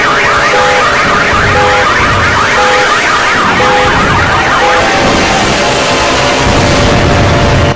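A car alarm shrieks loudly and close, cycling through warbling, stepped electronic siren tones with no talking.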